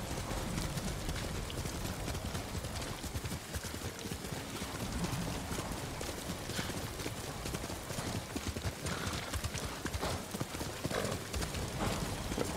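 Horse hooves pound in a rapid galloping rhythm in the video game Ghost of Tsushima, over a dense, noisy background, continuous and moderately loud throughout.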